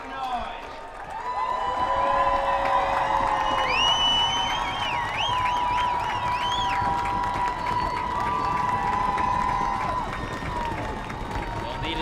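Stadium crowd at a high school football game between the San Dimas Saints and Bonita Bearcats cheering and applauding through the closing seconds, with sustained roar, whoops and whistles, and a voice talking over it.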